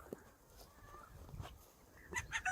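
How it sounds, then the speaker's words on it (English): Pastured ducks and chickens on grass, with a few faint honking quacks and clucks scattered against quiet outdoor background, a louder burst of calls near the end. "these are our pasture ducks and chickens"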